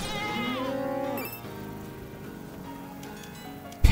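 Several goats bleat in wavering, drawn-out cries in the video game Minecraft, loud and close, followed by softer rustling and a sudden thump at the end.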